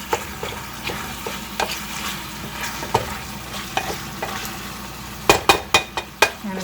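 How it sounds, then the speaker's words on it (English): A frying mixture for nasi lemak sizzles steadily in a pan while a utensil stirs it, with intermittent scraping and sharp clinks against the pan, the last several strikes coming in a quick burst. "So keep stirring that, and then leave for a minute"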